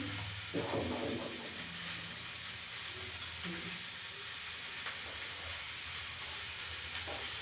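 Broken wheat (dalia) tipped into a pan of fried vegetables with turmeric sizzles steadily and close up, a constant frying hiss with a few clattery stirring knocks, no voices.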